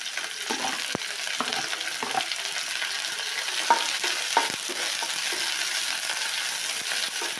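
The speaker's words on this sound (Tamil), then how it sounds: "வெங்காயம் பொன்னிறமாக வதக்கணும்." Onion, curry leaves and green chillies sautéing in hot oil after mustard seeds and urad dal, for a roasted gram kurma: a steady close sizzle with scattered stirring clicks, no talk.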